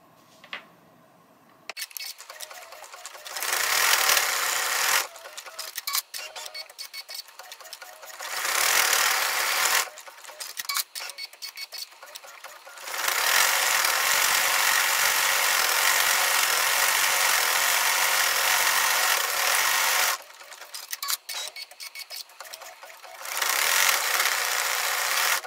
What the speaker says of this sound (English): we're going to stitch the eyes, the mouth, and the buttons using a satin stitch.